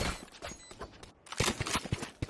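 Rapid gunfire from a competitive Valorant match on the Ascent map, scattered bursts and single shots overlapping in quick succession, fairly loud with brief gaps, mixed with game effects.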